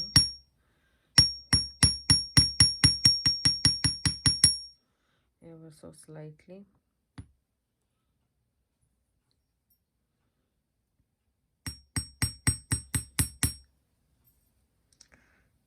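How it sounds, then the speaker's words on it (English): Rapid bursts of sharp metallic taps, two long runs of quick hammer strikes flattening jewelry wire for earrings, separated by a pause, with a brief murmured voice between them. "So I'm just going to hammer it down."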